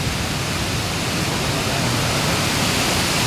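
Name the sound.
water rushing through the opened gates of Sunkeshwara dam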